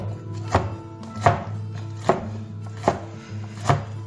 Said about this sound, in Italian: Prendiamo i fagiolini lessati e li tagliamo